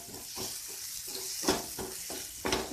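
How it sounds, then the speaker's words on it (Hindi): A spoon scrapes and mashes radish leaf and tomato sabzi in a sizzling pan, several distinct knocks and scrapes over a faint frying hiss, close up with no talking. "इस तरीके से इसे मैश कर लेंगे और सब्जी को अच्छे से मिला लेंगे"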